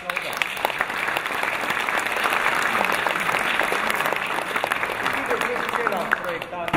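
Sustained applause from a crowd at a theatre inauguration, steady clapping filling the whole stretch with a few voices mixed in.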